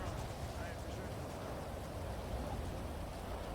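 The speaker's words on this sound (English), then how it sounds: "The rain." Steady heavy rain in the GTA V NoPixel roleplay world, a dense continuous wash with no breaks that fills the whole stretch at an even loudness.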